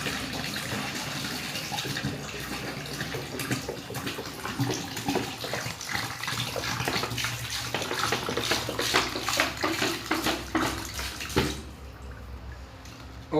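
Water pours steadily out of a plastic bottle in a tornado-vortex science experiment, a continuous gushing splash lasting about eleven seconds before it abruptly stops, leaving quieter room sound.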